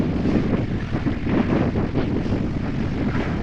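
Steady wind roars across the microphone on a sailboat cruising between the British Virgin Islands in about 14.6 knots of breeze, a dense continuous rumble with gusty fluctuations and no voices.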